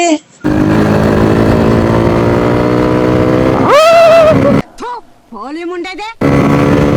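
A Suzuki Samurai motorcycle engine revs loudly and steadily up close, with a sharp rising rev near the middle, then brief gaps broken by short whiny tones before the engine roar resumes.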